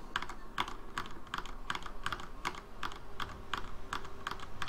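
Keys clack on a computer keyboard in quick, uneven bursts of typing, close and fairly quiet, with no one speaking.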